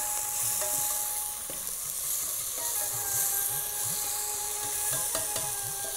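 Onion, tomato, green chilli and curry leaves sauté in a pan for sambar. A constant loud sizzle runs throughout, broken by repeated scraping stirs, with no voices.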